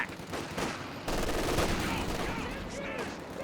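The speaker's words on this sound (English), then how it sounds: "But the LMG's popping" Light machine gun fire in a Company of Heroes 2 1v1 match: loud, sustained rattling bursts that run almost unbroken over a dense wash of battlefield noise.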